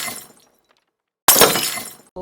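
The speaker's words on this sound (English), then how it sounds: "Sydney, she's going to do her best at cracking the egg" A child cracking an egg while making pancakes: a sharp, close crack and brief crunch of shell after a quiet pause, loud against the near silence.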